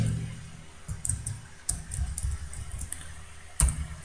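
Code is being typed on a computer keyboard, sparse clicking keystrokes in small clusters with pauses between them, close and fairly quiet in a still room.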